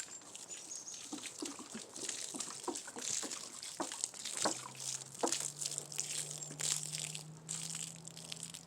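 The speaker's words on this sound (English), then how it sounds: "Now I'm just going to pour it over the raised bed again" Liquid fertilizer mix poured over a raised garden bed, a steady close splashing and trickling wash with a few crunchy rustles and a low hum near the end.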